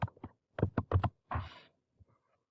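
Short bursts of typing on a computer keyboard, a few quick key clicks followed by a pause, then a softer click, close and alone in a quiet room.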